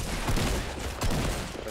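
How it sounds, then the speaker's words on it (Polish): Gunfire in the video game Fortnite, a dense crackling burst of rapid shots filling the short moment, loud and close with no speech over it. "Ty, strzelają do mnie."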